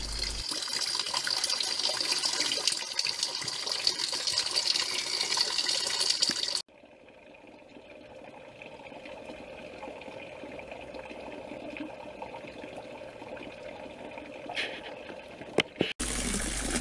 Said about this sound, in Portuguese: A bomba já está a funcionar, com o poço ainda com pouca água